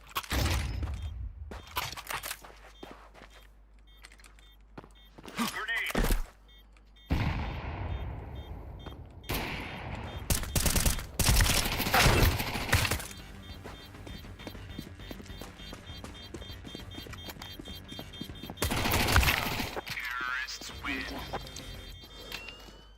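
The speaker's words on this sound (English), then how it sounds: "Deploying flashbang." Counter-Strike 2 match at IEM Cologne Major: bursts of gunfire and a flashbang pop, with sharp loud blasts scattered through a noisy game mix while players talk over the action.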